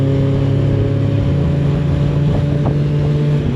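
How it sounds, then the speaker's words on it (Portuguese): Off-road buggies driving past outdoors, a steady loud engine drone with rumbling motor tones and wind noise, no speech. "São aqueles tipo buggy de ir para o monte"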